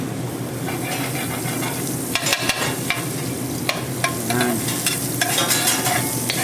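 Butter sizzles in a hot frying pan while a ladle stirs and scrapes it, giving a steady crackling fry with sharp metallic clinks and scrapes scattered throughout.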